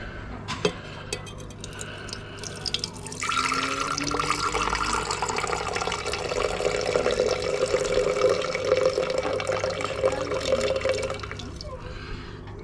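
Water glugs and splashes as a full bottle is poured out into another container during gold recovery from paper storage, a close, continuous trickling stream after a few small knocks and drips.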